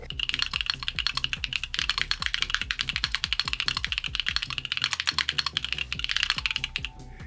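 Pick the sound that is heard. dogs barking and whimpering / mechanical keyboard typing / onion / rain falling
mechanical keyboard typing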